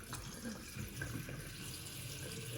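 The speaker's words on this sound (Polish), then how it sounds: "Tutaj zasysa takie urządzonko. Wodę." Water is drawn through a siphon cleaning device in a large 1500-liter Malawi cichlid aquarium, giving a faint continuous gurgling rush with soft bubbling.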